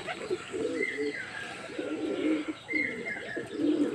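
Pigeons cooing in low, throaty rolls nearby at dawn before sunrise, with a couple of higher chirps from other birds over a faint background hum.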